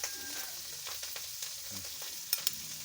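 Eggs with tomato and onion frying in a pan, a steady crackling sizzle with scattered stirring clicks and scrapes close by, two sharper taps near the end.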